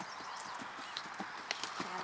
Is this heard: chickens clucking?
no